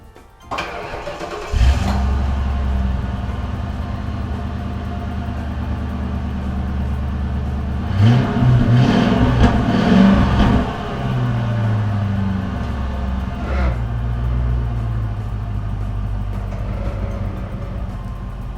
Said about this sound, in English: got the car fired up